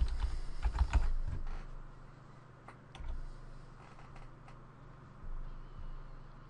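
A password being typed on a computer keyboard to log in to Ubuntu: a close, quiet burst of rapid key clicks, then a few scattered keystrokes with pauses between them, and no speech.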